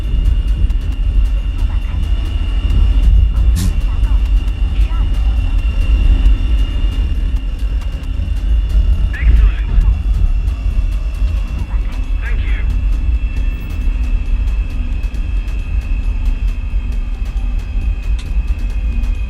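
Jet engines of an ME-262 and Harriers roar in a video game flight scene, a loud, continuous low rumble with a steady whine that holds throughout, occasionally punctuated by brief higher bursts, while a person talks over it.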